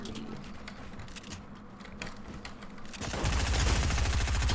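Rapid automatic gunfire rattles in a Fortnite match, a dense continuous burst of shots that erupts loudly after a few seconds of quieter game sounds.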